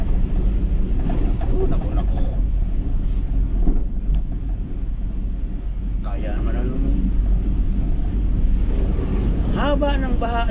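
A vehicle drives through deep flood water on the road leading out of Bredco Port in Bacolod City, making a constant loud rush and churn of splashing water and wind, with a brief exclamation from the driver.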